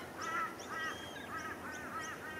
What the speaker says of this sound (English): All the birds are here buggering around, flying amongst the trees.